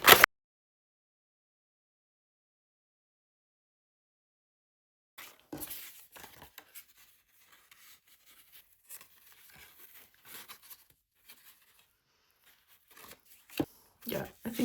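Scissors roughly cutting out printed paper antler templates for a needle felting project, giving soft intermittent snips and paper crinkling up close, with a sharp handling noise at the very start and quiet gaps between cuts.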